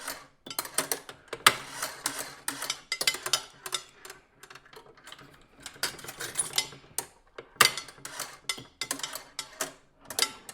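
An old vintage penny arcade machine with springy pins rattles and clicks as a coin runs through its original mechanism, with bursts of metallic ticking, clattering and ratcheting separated by short pauses, close up.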